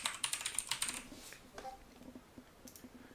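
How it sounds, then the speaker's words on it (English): A computer keyboard is typed on close by in a quick run of light key clicks for about a second, then a few scattered taps fade into a quiet room. "type up the email you would like to use"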